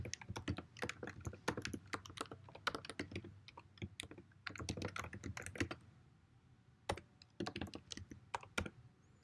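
Rapid keystrokes on a computer keyboard while entering contact details into a WordPress page, steady bursts of close, crisp clicks with short pauses between runs.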